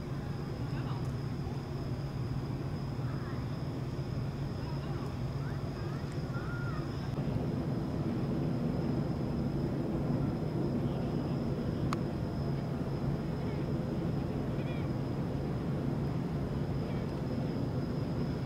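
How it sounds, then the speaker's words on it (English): Airliners near San Francisco International Airport, including a JAL 787-9 Dreamliner, produce a continuous distant jet rumble and whine that holds steady throughout, with a faint high tone on top. "Hey, we got planes and cargo ships this morning."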